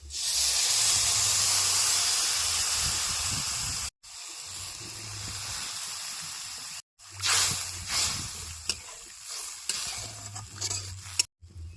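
Water poured onto potatoes frying in a pan, a loud continuous sizzle and hiss that briefly cuts out a few times and resumes, with stirring and scraping toward the end and no talk.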